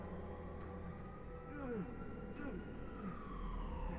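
An ambulance siren in the video game Beyond Two Souls wails faintly in the distance, its pitch sweeping up and down across a low, steady background rumble.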